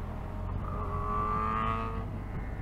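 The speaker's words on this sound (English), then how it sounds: "Oh yeah, that inline 4." An inline-four engine on a BMW R1250R-type ride accelerates with a rising, sustained whine, steady and fairly loud against road and wind noise.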